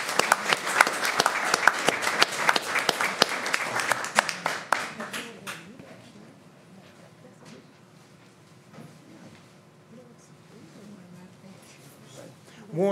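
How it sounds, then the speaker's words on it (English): Audience applause at a county board of commissioners regular meeting, a dense burst of clapping for about five seconds that then fades into quiet room murmur and faint voices. "So I think that gives a round of applause for these young men."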